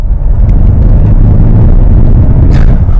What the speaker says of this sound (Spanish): ya con un motor V8, biturbo, y un motor que bueno, que suena pues así.